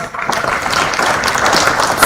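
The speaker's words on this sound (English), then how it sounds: "Please, another round of applause" Audience applause at a security summit in Nigeria, steady crowd clapping from a large hall, moderately loud and sustained throughout.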